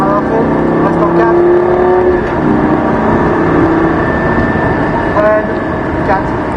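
A Lamborghini Gallardo at full throttle on the Nogaro race track, heard from inside as a loud, continuous engine roar with rising harmonic tones and brief shifts, under occasional talk in the cabin.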